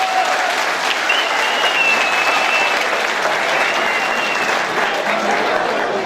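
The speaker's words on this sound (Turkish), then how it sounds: "önce kendinize kuvvetli bir alkış vermeniz lazım." Loud, dense audience applause from a crowd at a community dinner gathering in Ormanözü village, Turhal, Tokat, filling the whole stretch as a steady continuous roar of clapping.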